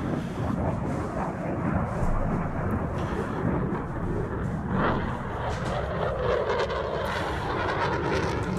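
A Eurofighter fighter jet flies by with a loud, steady, broadband roar that swells slightly around the middle of the pass and holds for the full length without any voices.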